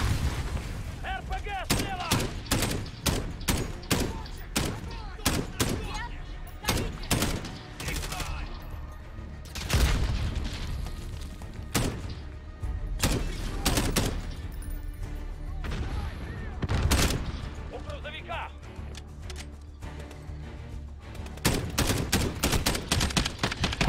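Rapid bursts of gunfire from the video game Call of Duty: Modern Warfare, with dense volleys of shots and booms repeating throughout, loud and close, with someone talking intermittently over them.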